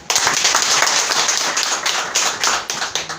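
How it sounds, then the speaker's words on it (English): An audience claps for a few seconds at a question-and-answer session on domestic violence, a dense patter of many hands with no speech over it. "Please clap for him."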